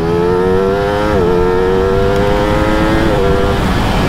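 A Ducati Streetfighter V4 motorcycle drones loudly up close, its engine note stepping down twice in pitch as it downshifts, each shift marked by a brief blip, over steady wind and road roar.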